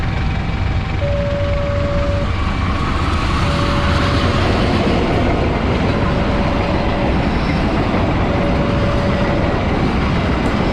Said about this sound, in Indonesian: Macam di Jawa ya, ada kereta api juga di sini.